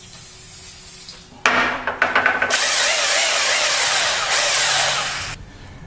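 A ball joint press on the upper ball joint of a 2002 GMC 2500 HD 4x4 is cranked down with a ratchet, giving a burst of quick clicks followed by a steady, loud grinding whir that stops near the end.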